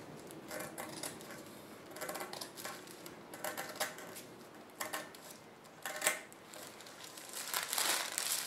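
Scissors cut fabric along a pattern line in short bursts of crisp snipping and rustling, close and fairly quiet, with pauses between the cuts.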